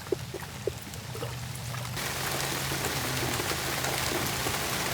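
Rain falling in a rural village, starting with scattered drips and splashes, then swelling into a steady, dense downpour pattering on surfaces, fairly quiet overall with no talk.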